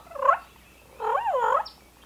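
A wild turkey hen's purr imitated on a mouth call: a short rolling trill, then a longer undulating purr, close and clear with no talk.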